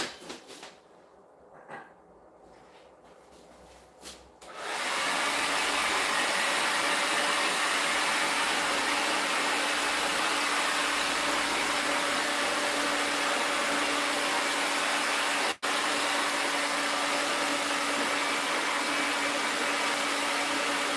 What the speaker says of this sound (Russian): Берем фен и просто подсушиваем волосы.